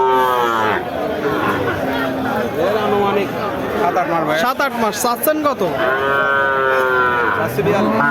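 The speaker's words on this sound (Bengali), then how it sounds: "কোরাত জাতের একটা বকনা বাছুর" A Korat breed heifer calf, about seven or eight months old, mooing with drawn-out, wavering calls, a few in sequence, close by amid livestock noise, with people talking over and between the calls.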